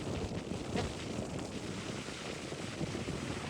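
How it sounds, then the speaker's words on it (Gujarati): Strong wind at sea buffeting the microphone in a steady roar, with a low rumble like open water beneath it and no voices. "પવન કેટલો છે"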